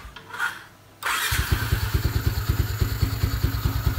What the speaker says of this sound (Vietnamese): Rồi, nổ máy cho anh em nghe thử.